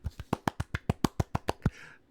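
A dozen crisp hand claps in a quick, even rhythm, close and fairly loud, followed by a brief murmur of voices as they end.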